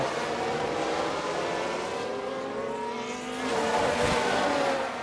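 F1 race cars overtaking in F1 Manager 22, with high whining engines droning close and steady, then swelling louder and sweeping past near the end.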